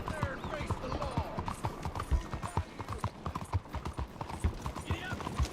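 A horse's hooves clip-clop at a steady riding pace in Red Dead Redemption 2, close and continuous, with faint tack rattling and voices talking over parts of it.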